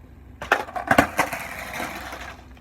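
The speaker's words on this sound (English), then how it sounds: "there's a very distinct sound that it makes whenever the board slaps the ground" A skateboard pops against the ground during an ollie, giving a few sharp, close wooden cracks and slaps in quick succession, followed by a short, fading rolling rumble with no talking.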